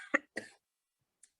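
Two sharp coughs in quick succession from someone with a heavy cold, close and fairly quiet, followed by near silence.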